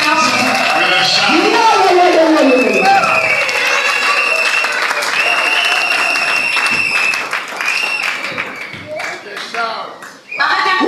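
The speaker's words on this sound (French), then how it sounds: "Give a clap offering to the Lord Jesus." A church congregation bursts into sustained applause and cheering in praise, a loud dense roar of clapping with voices shouting over it, tapering slightly toward the end.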